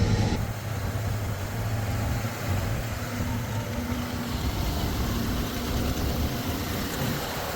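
A New Holland TS135A tractor pulling a 461 baler runs steadily close by, a continuous low engine rumble with broadband mechanical noise and no pauses.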